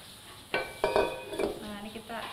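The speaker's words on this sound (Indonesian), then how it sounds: "Kita aduk sampai kecampur rata ya." Brownie batter stirred in a bowl with a few scraping, knocking strokes of a utensil against the bowl, close and fairly quiet with no talk.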